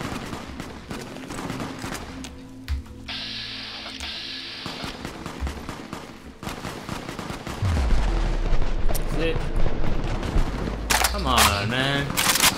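Rapid Fallout 3 gunfire rattles in bursts amid shifting electronic effects and tones, growing louder and busier toward the end.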